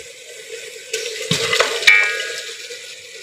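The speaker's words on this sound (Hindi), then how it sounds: "अब हम इसमें गोश्त डाल देंगे।" Beef pieces dropped into tomato masala frying for white beef pulao: a short clatter and splash, then a sharp sizzle that fades into a steady frying hiss.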